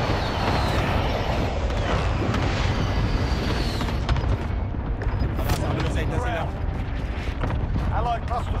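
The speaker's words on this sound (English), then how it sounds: "Be advised, friendly precision airstrike inbound." Precision airstrike explosions hit in Call of Duty Warzone, with heavy booming blasts and rattling gunfire rolling through a busy battle mix while voices talk over the din.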